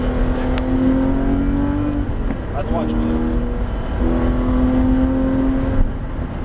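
A Porsche GT3 RS lapping the wet Abbeville circuit, heard from inside: a loud engine pulls through rising revs, dips sharply at a gear change, then climbs again, while someone briefly speaks over it.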